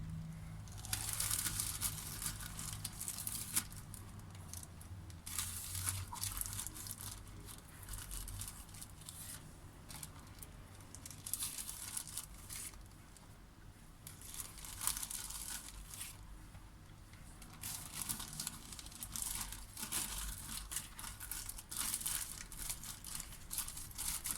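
Continuous soft crinkling and rustling of a plastic zip-lock bag being handled up close while filled with peppers, quiet and irregular throughout.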